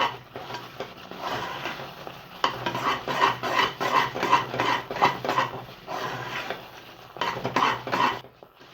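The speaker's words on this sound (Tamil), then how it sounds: "நல்லா கலந்து" A spoon scrapes and clinks against a pan in rhythmic strokes, close and fairly loud, while a sweet mixture with ground peanuts is stirred over the heat.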